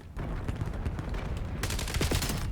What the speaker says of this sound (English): Big Mama hit me with the sniper rifle.